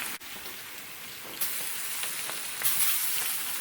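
Butter sizzles loudly around a cowboy ribeye steak in a hot pan, a dense, steady hiss that swells slightly a couple of times, close up and with no talking.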